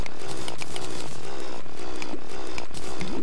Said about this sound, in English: Ah, lovely drill. This is how you should mine.